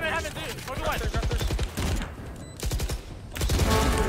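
Rapid gunfire from a Valorant match, bursts of sharp shots cracking out in quick succession amid game effects, with an excited voice speaking over part of it.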